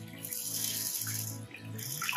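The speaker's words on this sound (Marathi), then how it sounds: "तांदूळ आपण 2 वेळा पाण्यामधनं वॉश करून घेऊ" Rice being washed twice in water for Maharashtrian sode bhat, a dried-prawn khichdi, with steady splashing and running water, swishing continuously up close throughout. No talk.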